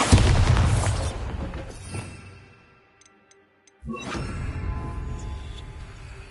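A Bombarda spell explosion in Hogwarts Legacy begins as a loud burst and fades over about two seconds. Near-silence follows with faint ticks, then a second blast rises suddenly and rumbles on.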